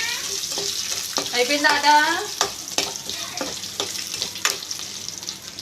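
A tomato dal tempering with curry leaves fries in a pan, a steady crackling sizzle with sharp pops, while a voice speaks briefly over it.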